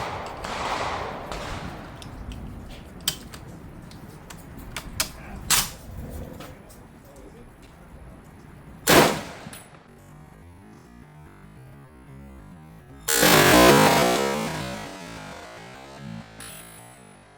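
A 1943 Springfield Armory M1 Garand in .30-06 is worked close up, giving scattered sharp metallic clicks and clacks, then a bright clank as the bolt slams forward and a longer rattling burst of metal on metal.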